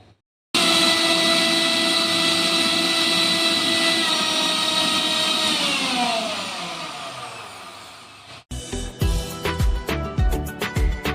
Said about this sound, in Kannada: ಈಗ ನಾನು ಇದನ್ನ ಮಿಕ್ಸಿ ಮಾಡ್ಕೊಂಡ್ಬರೋಣ.